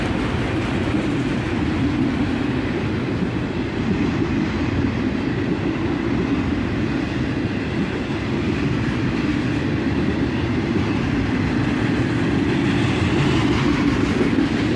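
Loaded and empty autorack freight cars roll past at dusk in a continuous heavy rumble, with faint clickety-clack throughout.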